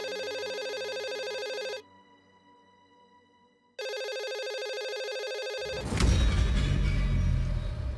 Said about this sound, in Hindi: तो दोबारा फोन करो ना, पुलिस स्टेशन फोन करो।